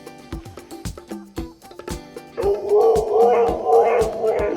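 A dog yips and whimpers in short repeated bursts close to the mic, then breaks into a longer drawn-out howling whine that rises and falls.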